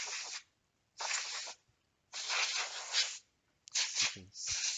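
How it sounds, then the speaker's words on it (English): Compressed air sprayed inside a PS4 console to blow out dust: four hissing bursts of varying length separated by short pauses, close and fairly loud, with no talking. "So I'm just trying to avoid spraying it onto the laser."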